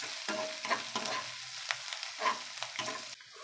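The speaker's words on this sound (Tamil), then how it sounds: "நல்லா கிளறி விடலாம்." Chopped garlic and ginger stir-fried in hot oil, with a bright sizzle broken by repeated spatula scrapes and clanks against the pan, close and fairly loud, pausing near the end; no voices.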